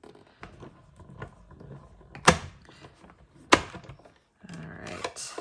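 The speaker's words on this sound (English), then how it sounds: "I'm going to run that through the machine." A card panel for a Stampin' Up! pet shadowbox pop-up card is cranked through a manual die-cutting machine, giving close clunks, ratcheting mechanical clicks and a couple of sharp knocks.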